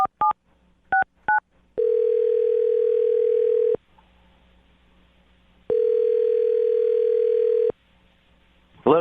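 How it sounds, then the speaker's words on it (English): Telephone keypad dialing: a few quick touch-tone beeps, then two long steady ringback-style tones separated by a pause, loud and clean with no talking. "I'm going to dial the phone number right now."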